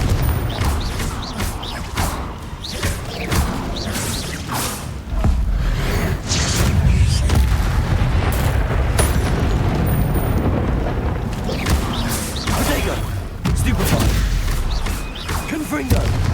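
Fiery Confringo spell blasts in the Hogwarts Legacy video game: a run of loud booming explosions and whooshing bursts, one after another, with a voice talking over the noise.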